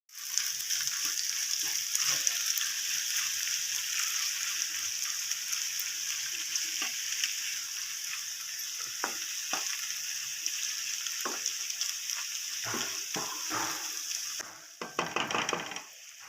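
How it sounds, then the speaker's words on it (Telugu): Potatoes fry in a pan with a steady bright sizzle and crackle, broken by a few soft scraping and turning knocks near the end, with no talking. "ఇటేపు ఆలు ఫ్రై అవుతుంది."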